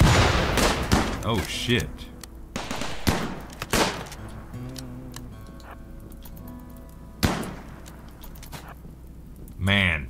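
Survival rifle gunfire in the colony-management game RimWorld: several sharp shots and short bursts scattered through the stretch with game sound effects, under frequent excited talk from a player.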